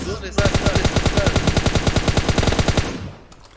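Rapid automatic gunfire in PUBG Mobile, a long, steady burst of about thirty evenly spaced shots, loud and close, that stops abruptly and leaves a faint tail.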